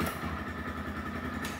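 A TVS Rider 125 motorcycle engine runs softly just after its quiet start, a low steady idle with a slight clatter, brief and faint.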